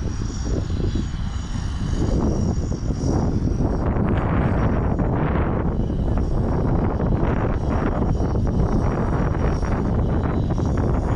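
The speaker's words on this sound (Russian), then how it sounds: "Ветер, ветер, ветер." Strong wind buffets the microphone outdoors in Ulan-Ude with a loud, continuous roar and rumble that gusts unevenly for the whole stretch, with no voices.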